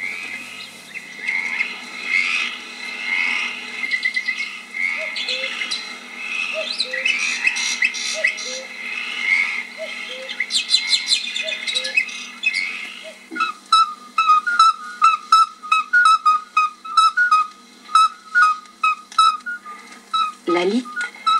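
A midwife toad's pure, bell-like high note repeats steadily at night, alone among other chirps and whistles near a pond, with a spoken voice over the first half.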